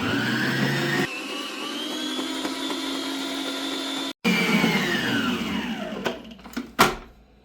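An electric mixer whisks eggs and sugar for cupcake batter with a loud, steady whine that cuts out briefly, restarts and then winds down into a few clanks at the end.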